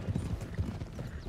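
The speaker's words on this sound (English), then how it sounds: "Herd the horses to the open plains. Come on. Come on, horses." Horses' hooves clip-clop in a steady, overlapping rhythm as a small herd of mustangs is driven across open plains in the Red Dead Redemption 2 video game, the thudding footfalls close and fairly loud with no talk.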